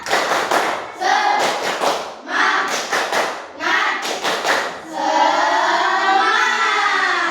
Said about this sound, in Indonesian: Biar tambah semangat kita tepuk dulu ya.